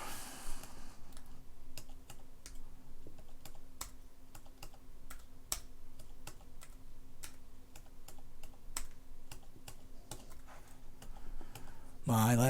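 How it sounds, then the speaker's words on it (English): Rapid, uneven keystrokes on a computer keyboard, a dense run of close clicks over a steady low hum, with a louder clatter at the very end. "This is an exercise in keystrokes"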